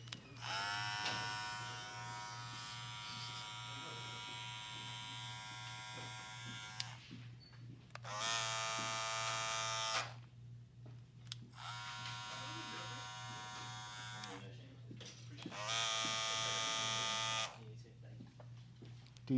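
Andis Master M Force hair clippers buzz loudly during a mid taper haircut, running in several bursts of a few seconds each over a steady low hum, with voices talking between runs.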